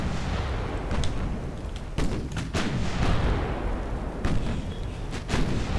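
In the naval battle game Ultimate Admiral: Dreadnoughts, a battlecruiser duels a battleship amid rumbling naval gunfire and shell hits, with repeated heavy booms and sharp thuds over a constant loud low roar of battle.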